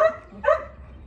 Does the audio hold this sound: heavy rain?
no